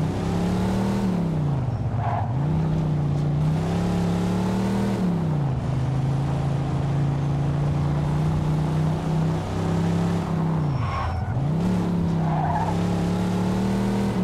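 A car engine in the video game The Betrayal of Jimmy revs steadily and loudly, its pitch dipping and climbing twice, with tire squeals and skidding mixed in, like racing game audio.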